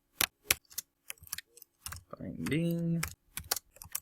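Fingers tap out a quick, uneven series of sharp clicks on a computer keyboard, fairly close, with a brief spoken phrase in the middle.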